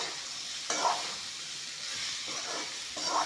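Green chillies and kohlrabi sizzling in hot oil in a pan, a steady bright crackle close by with a couple of stirring scrapes and swells.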